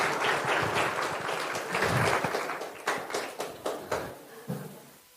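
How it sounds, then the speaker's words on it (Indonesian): Audience in a mosque hall applauds the questioners, a fairly soft burst of clapping that thins out into a few scattered, separate claps near the end. "Beri tepuk tangan buat penanya-penanya kita."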